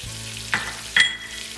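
Cilantro, garlic, turmeric and ginger hit a hot pan for fried rice with a steady close sizzle, punctuated by two sharp clattering bursts as the pan is stirred; no talking.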